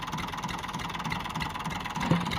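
A tractor engine idles steadily at close range, a continuous low rumble that holds even throughout, with a brief knock or clunk near the end.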